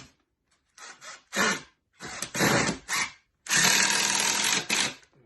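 Power drill driving self-cutting screws into wood, in several close, loud whirring bursts with short gaps, the last run longest and steady.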